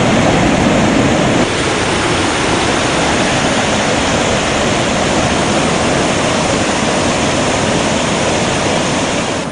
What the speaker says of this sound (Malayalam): വെള്ളച്ചാട്ടത്തിന്റെ ഇരമ്പം കേൾക്കാം.